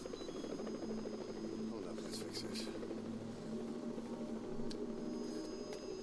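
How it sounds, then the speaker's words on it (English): A helicopter in Metal Gear Solid V: The Phantom Pain sends a steady, droning rotor hum and buzz through the whole stretch, with game sounds and effects layered over it. "Oh, it's a helicopter."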